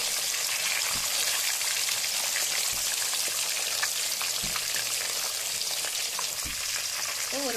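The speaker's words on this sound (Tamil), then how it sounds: "மீன் ஒரு பக்கம் நல்லா பொரிய ஆரம்பிக்கட்டுங்க." Jalebi fish, a Mettur dam catch, fries in hot oil in a pan with a loud, steady, crackling sizzle throughout and a few soft knocks from handling, no voices.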